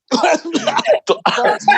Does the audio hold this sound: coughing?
yes